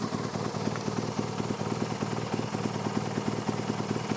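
A ten-year-old BMW 1200 GS DOHC motorcycle idles steadily up close, a continuous low engine note with a fine regular pulse and no voices over it.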